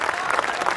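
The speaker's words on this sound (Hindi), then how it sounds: "तालियां कम है आपकी" Dense, steady applause from an audience at a Hindi hasya kavi sammelan comedy poetry show, with many hands clapping close together and filling the whole moment without pause.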